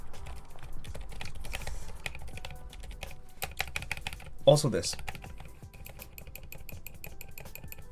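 Keys on a Ducky ONE 2 mini keyboard with silent switches clatter in steady rapid typing, close and fairly soft, with a brief spoken phrase partway through.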